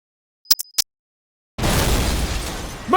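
Radio drama explosion effect in an empty storefront: a few sharp clicks, then silence, then a sudden loud burst that settles into a broad rumbling roar of debris and noise.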